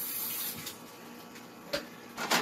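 Tap water runs steadily into a sink while cubed potatoes are rinsed, a soft continuous splash with a few brief clatters near the end.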